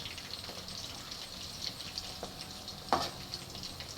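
Chicken pakoda fries in hot oil with a faint, continuous sizzle, broken by a few soft scraping stirs and one sharper clink near the end, quiet and close, with no talk.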